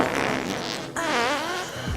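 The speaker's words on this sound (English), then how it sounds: "it's true that I fart" A human fart plays as a continuous, loud, close buzzing and sputtering sound lasting about two seconds with a brief break midway.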